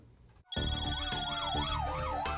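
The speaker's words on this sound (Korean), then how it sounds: "동작소방서 소방구조 차량들이 비상 사이렌을 울리면서 분초를 다투며 긴급 출동하고 있습니다" Fire rescue vehicles from a Seoul fire station sound wailing emergency sirens, starting abruptly and holding loud and close with a rising and falling electronic tone over a steady horn.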